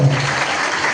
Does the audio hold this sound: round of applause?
yes